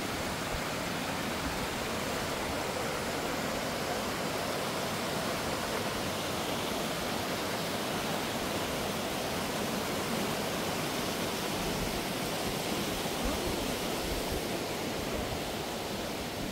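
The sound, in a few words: waterfall at Cheonjeyeon Falls, Jeju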